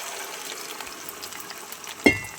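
Boiled dal poured into a sizzling tempering of black cumin, dried chilli and onion: a steady soft frying hiss, then a sudden loud splash and burst of sizzle near the end.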